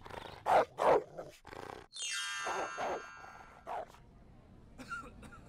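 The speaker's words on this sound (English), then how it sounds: "and that's Topaz, the neighbor's dog, and the agent of my undoing." Several loud, close dog barks burst out in a quick cluster at the start, then a long ringing metallic tone with more barks and a few scattered faint yelps after it, from a neighbor's dog outdoors around dawn.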